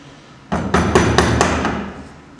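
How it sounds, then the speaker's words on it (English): A chisel struck repeatedly while cutting out a mortice for a lock in timber, about six sharp close knocks in quick succession, fading at the end. "then I can just finish it off with the chisel"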